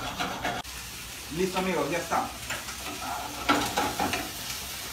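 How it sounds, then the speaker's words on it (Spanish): Ají amarillo frying in a pan for a swordfish tiradito gives a soft, continuous sizzle with stirring scrapes, while someone speaks Spanish over it. "déjenme, por favor, terminar de freír esto y regresamos"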